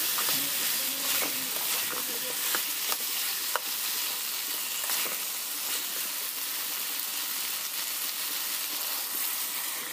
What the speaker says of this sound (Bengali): ভেজে রাখা আলু দিয়ে এবার সব ভালো মতো একসাথে ভেজে নেব